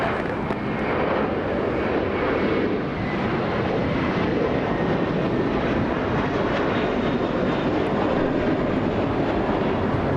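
An airliner takes off from the south side of LAX bound for JFK, a loud, continuous roar of jet engines that holds steady and close throughout.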